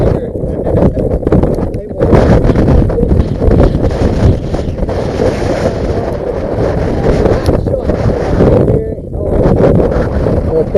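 Heavy wind buffeting a microphone outdoors during an airsoft game, with loud continuous rumbling gusts and brief lulls, while people talk over it.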